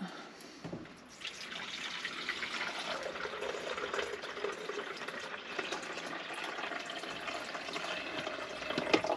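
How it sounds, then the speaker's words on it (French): Water poured into the reservoir of a coffee maker, heard as a continuous close splashing, trickling stream that runs almost unbroken for about eight seconds after a short quiet start. "Allez, on met l'eau."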